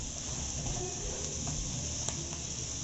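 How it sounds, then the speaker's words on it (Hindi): Potatoes stirred into fried onions in a pan for dhaba-style aloo paratha filling, a steady soft sizzle with faint scraping of a spoon, continuous and close throughout. "अब हम आलू को अच्छे से मिक्स कर देंगे।"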